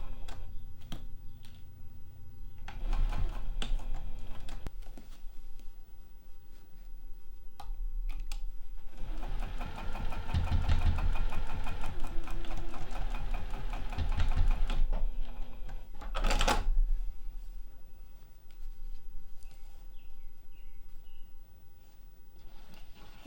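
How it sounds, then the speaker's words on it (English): A sewing machine stitches across the bottom of a fabric and vinyl bag handle, whirring in long, close, fairly loud runs with rapid ticking needle strokes, pausing briefly in between, with no talk. "I'm gonna sew across the bottom first."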